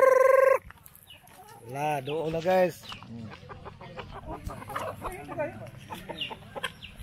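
A flock of farm chickens clucks and crows under a mango tree in the province, with a short burst of hens near the start and people talking over the birds throughout.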